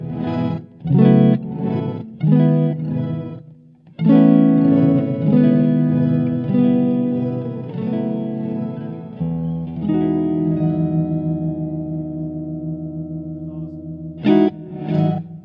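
An electric guitar plays sustained chords through an octave fuzz pedal, with doubled tones an octave above and below, ringing out loudly, then a couple of short plucked notes.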